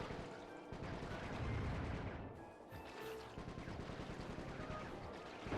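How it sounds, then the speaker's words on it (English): Rapid gunfire from a gun in the video game Sly 3: Honor Among Thieves, a dense, sustained burst of shots with a crashing blast partway through, loud and continuous throughout. "Square and R1, let us fire the gun."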